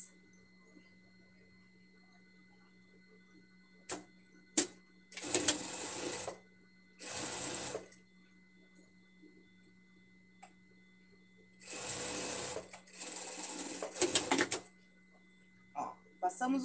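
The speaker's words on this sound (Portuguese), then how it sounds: "a gente vai passar uma costura aqui no meio" A domestic sewing machine runs a seam down the middle of a basic blouse in several short bursts of fast whirring stitching, separated by quiet pauses and small clicks, with a person talking between runs.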